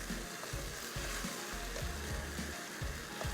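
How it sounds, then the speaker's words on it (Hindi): Tomato masala frying in a pot with oil, a dense steady sizzle overlaid by intermittent scraping stirs, close and continuous with no voices. "अब इस स्टेज पे अच्छे से हमने इसको भूनना है"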